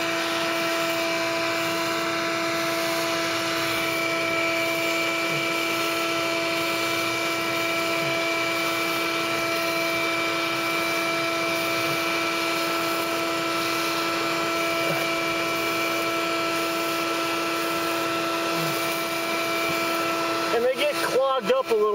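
A Tube Bee Vacuum draws bees through its clear tube, giving a steady, even motor hum with tonal whine that runs continuously and close by, with a brief rattling burst near the end.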